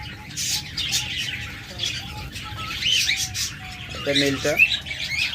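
Pet budgerigars, cockatiels, lovebirds and doves chirp and tweet in steady, moderately faint calls under brief speech, with a louder bird squawk near the end.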